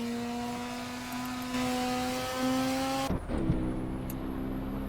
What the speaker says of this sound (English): My car is sliding right now.